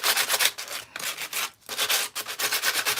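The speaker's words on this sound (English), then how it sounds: "I'm trying to get into these little grooves the best I can with the sandpaper, just scuffing it up" Sandpaper rubs in quick back-and-forth strokes across the grooves of a gingerbread platter, scuffing the surface. The scratchy rasping is close and continuous, broken only by a brief pause.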